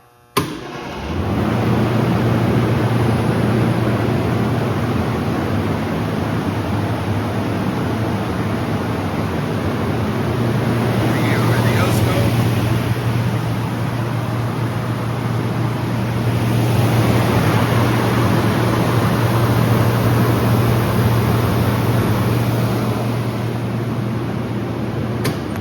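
Aldonex 2000-amp, 0-18 volt air-cooled rectifier, partially filtered with a choke, running alone: after a click at start, a loud steady electrical hum and fan-like whoosh hold continuously throughout.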